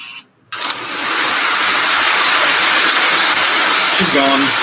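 A train engine in a railway game revs up after a brief cutout, settling into a loud, steady mechanical drone as the locomotive pulls away, with a short tonal horn-like note near the end.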